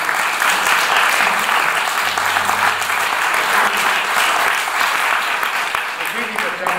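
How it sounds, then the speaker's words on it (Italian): An audience at an autumn charity concert evening applauds the volunteers, with loud, dense clapping that holds steady throughout and fades only slightly at the end. "anzi un applauso ai volontari"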